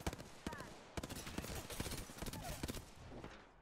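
Rapid bursts of automatic gunfire ring out in the Apex Legends video game, sharp cracks fired in quick volleys, close and loud, with a few short pauses between strings of shots.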